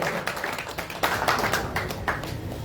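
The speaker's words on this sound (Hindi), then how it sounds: "जोरदार तालियां" Loud clapping from a crowd at an outdoor village political rally, with uneven bursts of hands that swell in the middle and continue throughout.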